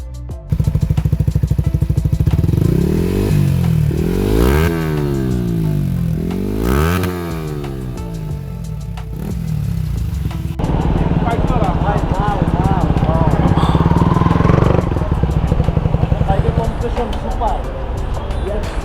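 A Yamaha R15 V3 motorcycle fitted with an aftermarket exhaust revs up and down close by, several rising and falling throttle blips over a rumbling idle, followed by a harsher, raspy sustained revving, with someone talking over it.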